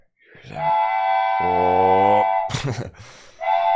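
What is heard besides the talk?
train whistle sound effect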